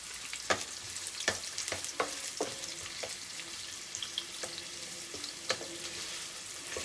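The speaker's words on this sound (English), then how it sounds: "that's a whole white onion that we've added to this. Just going to chuck that in there. And we want to saute that." A whole white onion sautés in a pan for lamb bunny chow, sizzling steadily with a spoon scraping and stirring through it in occasional sharp clicks.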